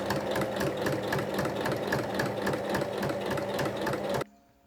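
A sewing machine stitches along the handles of a small fabric tote bag, a fast, even mechanical rattle close by that runs steadily and stops abruptly near the end.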